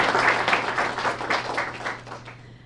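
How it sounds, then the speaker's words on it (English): Audience applause at a student recognition event, many hands clapping in a dense, rippling wash, close and moderately loud before tapering off toward the end, with a faint steady hum underneath. "So let's just give them a great round of applause."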